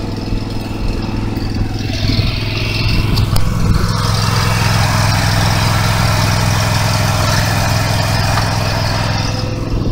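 A Ryan ZTS stand-on zero-turn aerator runs at a steady, loud engine drone up close, with a brief shift in the mechanical noise as its tines lower into the ground.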